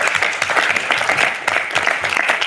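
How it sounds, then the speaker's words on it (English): Newly elected student senate members applaud themselves at a meeting, a lively, fairly loud round of clapping with a slight swell partway through. "give yourselves a round of applause"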